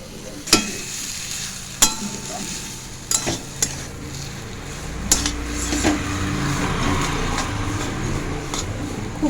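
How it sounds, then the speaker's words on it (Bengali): Spiced potato frying with curry leaves in a pan gives a continuous sizzle, punctuated by several sharp clinks and scrapes of a spoon against the metal as it is stirred and mixed, with no talk. "ভালো করে এভাবে মিশিয়ে নিচ্ছি মেশানো হচ্ছে আর একদিকে আলুটা একটু কষানো হচ্ছে"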